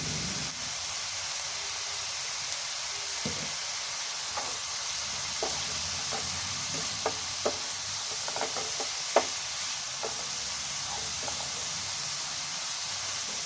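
Food sizzling in hot oil in a pan while being stirred, a constant hiss with scattered sharp clicks and scrapes from the spoon, heard alone without speech.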